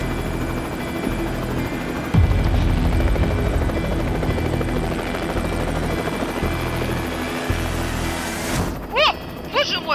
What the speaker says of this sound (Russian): Первое развлечение – полет на вертолете к снежным вершинам.